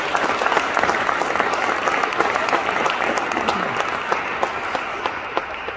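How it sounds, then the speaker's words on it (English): Congregation applause in a cathedral for two priests celebrating their golden jubilee, sustained crisp clapping from a large crowd, steady and fairly loud with individual claps popping out. "let us once again a hand of applause for Reverend Father Francis Kharwanlang"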